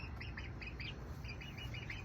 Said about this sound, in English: He's good with the baby birds until they start to cry like this.